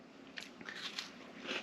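Close, faint crunching as someone bites into crisp chocolate caramel meringue made with LMNT, a few brittle crackles followed by soft chewing.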